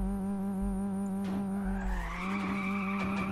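Car drifting into a spin in a Unity vehicle game, with a steady engine drone and a harmonic hum carrying on throughout as tire skidding rises and sweeps upward near the end, all at close range.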